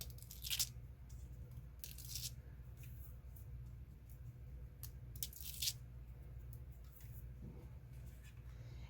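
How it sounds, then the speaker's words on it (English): Paper backing is peeled off adhesive on a handmade shaker card in a few short, crisp tearing strips spaced apart, close and quiet against a soft background hum. "you can remove all of the paper backing."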